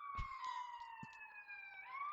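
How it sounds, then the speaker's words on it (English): A police siren wails outside, its steady tones sliding slowly downward as it passes at a moderate distance, with a few faint knocks and bumps nearby. "As you can hear, there's now sirens coming"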